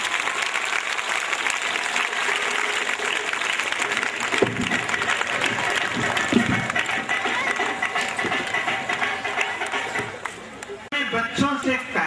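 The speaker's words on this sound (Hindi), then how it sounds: "जोरदार तालियों के साथ स्वागत कीजिए। Clapping with counting." School annual event audience giving a welcome with rhythmic clapping, loud steady applause with crowd noise and voices mixed in, easing briefly near the end before resuming.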